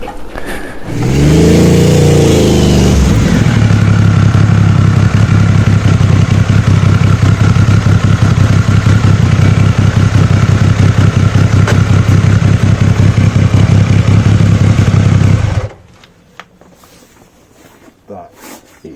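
Triumph Sprint 900 motorcycle ridden up and down a hill: the engine starts with a burst, then a loud, sustained rumble holds for over ten seconds before cutting off, leaving quieter background noise.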